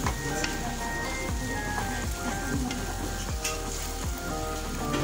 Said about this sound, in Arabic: يلا حرك شي شويه الله يرضي عليك، حرك شي شويه